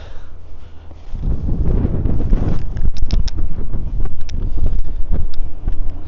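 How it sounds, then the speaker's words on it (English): Strong wind buffets the microphone on a historic coastal headland at Hartlepool, a loud continuous roar of gusts that swells after the first second and stays heavy to the end. "Now it's very windy today over here on the headland."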